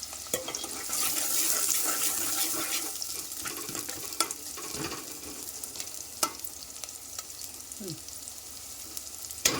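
Onions sizzle steadily in hot oil while a utensil stirs and scrapes the pan now and then, close by and fairly quiet.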